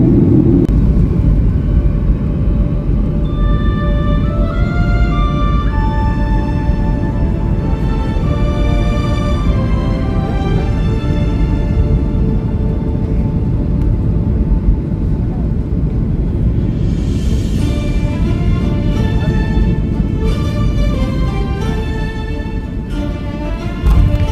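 Airliner cabin noise while landing at Cologne: a loud, constant low roar of engines and airflow with faint shifting whines, steady throughout and tapering slightly near the end.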